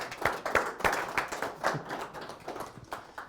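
Audience at a real estate seminar applauding, a close, fairly dense patter of clapping hands that stays steady for a few seconds.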